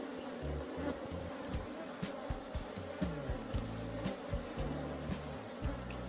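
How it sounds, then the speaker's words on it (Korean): Honeybees buzzing at a beehive on a farm, a dense, continuous drone with individual bees flitting close by, steady throughout with no voices. "벌이 눈으로 하나 들어가 아 이제 큰일 났네"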